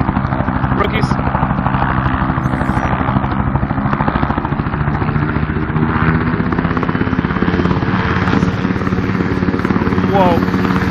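Helicopter rotor and engine drone from the Zero Latency VR game Outbreak Origins, a loud continuous pulsing chop throughout with the rapid rotor beat steady, while players talk over it.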